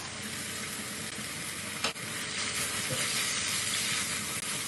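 Tomatoes and kaffir lime leaves sizzle in a hot pan with a steady, close frying hiss, broken by a brief clatter partway through as something is stirred or added.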